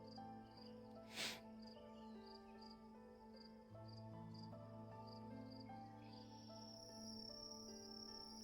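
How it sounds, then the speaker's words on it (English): Crickets chirping outdoors at night, faint regular pulsed chirps over a soft steady drone, with one brief louder rustle early on. "Walking outside and hearing like the crickets."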